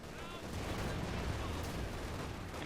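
Grenadier rifles fire in Company of Heroes 2, a steady, dense wall of battle noise with crackling shots blending into constant loud gunfire over the full stretch.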